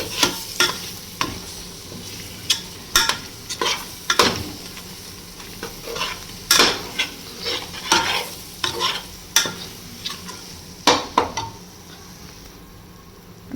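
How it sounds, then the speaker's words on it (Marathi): Vegetables with coarsely ground roasted sesame seeds being sautéed in a pan for a Bhogi mixed-vegetable dish: a steady close sizzle under repeated sharp scrapes and clinks of a spatula stirring at an irregular pace, with no talking. "1-2 मिनिटं आपण हलकेसे याला परतून घेऊयात"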